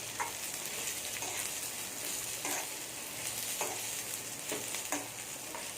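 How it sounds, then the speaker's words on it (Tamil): Onions sautéing in a pan for Tamil nethili anchovy kuzhambu, a steady soft sizzle with occasional scrapes of a stirring spoon, quiet and close with no one talking. "வெங்காயம் லேசாக வதங்கினாலே போதும்"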